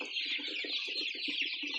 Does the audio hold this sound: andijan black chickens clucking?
yes